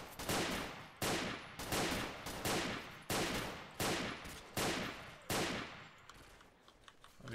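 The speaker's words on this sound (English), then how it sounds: "Tosser shooting that pistol constantly." Repeated pistol shots in S.T.A.L.K.E.R. Call of Pripyat, seven sharp loud cracks spaced about a second apart, each with a decaying echo, then fainter scattered shots near the end.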